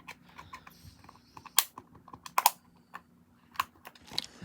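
Plastic game controller shell being pried apart by hand: a series of small, close, irregular clicks and ticks, with a few sharper snaps, and no talk.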